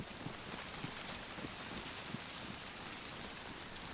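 Rain falling in the video game DayZ, a faint, even patter and hiss of drops, steady and without voices.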